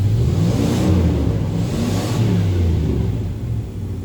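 A 1996 Dodge Ram's 318 V8 engine idles and revs steadily up close, a continuous low rumble with slight swells in loudness and no voices.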